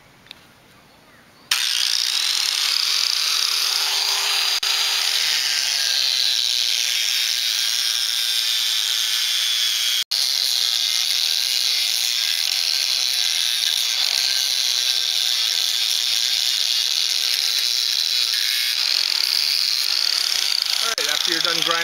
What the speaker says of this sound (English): now we're going to hit the second ear on this passenger seat and get it ground down